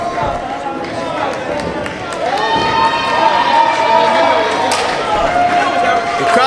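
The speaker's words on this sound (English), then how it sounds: "The crowd is fired up for this main event" At a professional wrestling main event, a loud arena crowd roars and cheers continuously, swelling midway, while a commentator talks over it.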